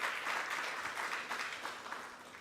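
Audience applause for a Deputy Minister at a finance lab launch event, a dense, continuous roar of clapping, fairly distant and gradually easing off.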